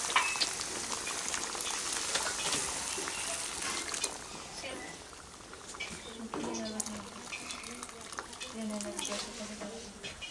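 Water poured into a pot of cooking rajma with a steady gushing splash, then softer sizzling and bubbling as it settles, fairly quiet and continuous.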